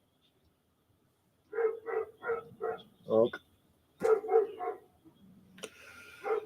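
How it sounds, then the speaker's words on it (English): A dog barks repeatedly outside an open window, two quick bursts of four or five loud, evenly spaced barks, followed by a brief spoken word and some rustling. "there's a dog somewhere barking its head off"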